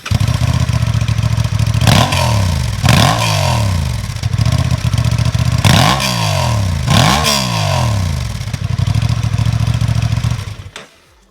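A Honda Transalp 750 motorcycle with its standard exhaust, loud and close, idling then blipped through several sharp revs that rise and fall back, with a deep throaty rumble before cutting off at the end.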